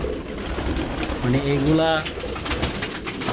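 Racing pigeons give a soft, rising cooing phrase in the middle, close by, while someone talks over steady background noise.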